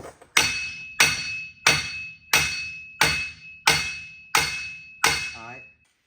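Eight evenly spaced, loud hammer blows strike a Jeep axle shaft, each hit landing with a sharp metallic clang and a short ringing decay, close and regular at just under a second apart.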